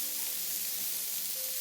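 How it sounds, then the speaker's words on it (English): Steady, moderately quiet sizzling of food frying in a pan, a continuous crackling hiss with no voices. "Sizzle, sizzle, sizzle."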